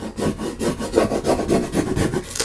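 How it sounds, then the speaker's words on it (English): A burnishing tool rubbing firmly over transfer tape on a wedding craft box, rapid scratchy back-and-forth strokes in a steady rhythm, close and loud with no speech. "then I'm going to take my burnishing tool and I'm going to burnish it all down"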